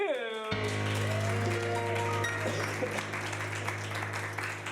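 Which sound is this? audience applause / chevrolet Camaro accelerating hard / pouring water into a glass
audience applause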